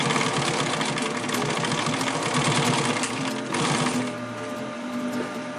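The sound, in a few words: sewing machine stitching webbing on a chest pouch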